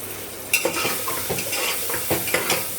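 Spices such as chilli powder and turmeric fry in a home kitchen pan with dal about to go in, a steady close sizzle broken by several sharp stirring scrapes and clinks of a utensil.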